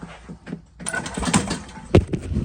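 The engine of an EZGO golf cart revs, held in neutral, with its governor bypassed. The motor rises and surges unevenly in short bursts, fairly close and loud, and there is a sharp knock near the end.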